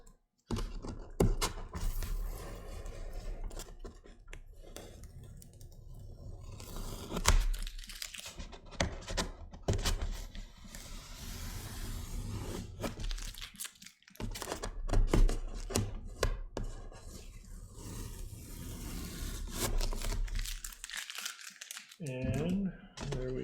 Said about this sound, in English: So I'm going to carefully take off this tape.